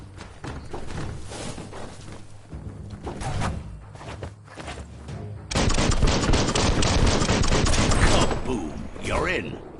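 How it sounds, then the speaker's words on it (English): Gunfire rattles in the video game Biomutant as an explosive object is shot until it blows, the shots building into a loud, sustained blast roar with a voice speaking over parts of it. "Shoot it and watch it blow."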